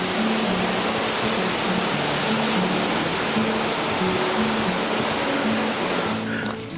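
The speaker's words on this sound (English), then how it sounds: "Just over here to cross the river again." Great Langdale Beck rushes through the Langdale Valley as a steady, close, broadband wash of flowing water, continuous and fairly loud, with a faint tonal hum running underneath and no talk.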